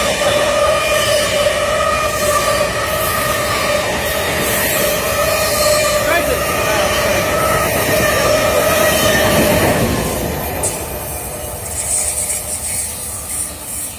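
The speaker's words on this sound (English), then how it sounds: "Please stand back for the train." Train pulling into a station platform in Elizabeth, New Jersey, a loud continuous rumble and hiss with sustained metallic squeal tones close by, easing slightly near the end.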